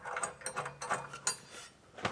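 A ratchet with a 19mm socket tightens hitch bolts, giving close, uneven bursts of metallic clicking and clunks under a vehicle.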